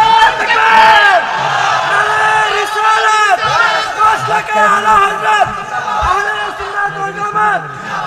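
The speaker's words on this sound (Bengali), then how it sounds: "এবার স্লোগান দেন ইনশাআল্লাহ।" A large crowd at a Bangladeshi religious gathering chants the slogan "Inshallah" together, a loud, dense mass of many voices shouting in unison and sustained throughout.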